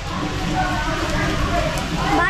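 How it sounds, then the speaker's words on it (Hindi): Heavy rain pours steadily outside a South Indian restaurant, a dense continuous hiss of downpour and splashing that fills the whole stretch, with a faint murmur of voices underneath. "अभी देखिए बहुत तेज बारिश लगी हुई है।"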